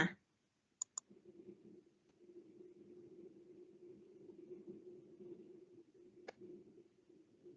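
A computer mouse gives a few sharp, close clicks: a quick pair near the start and a single click later, over a faint steady hum in an otherwise quiet room.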